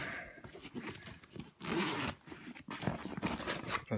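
Zips on a Berghaus Crusader 90+20 MMPS backpack's pockets are pulled open in several quick, rasping strokes with short pauses between, close up and alone.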